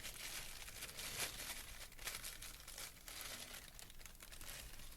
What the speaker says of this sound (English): Let's get our plastic off and get a closer look.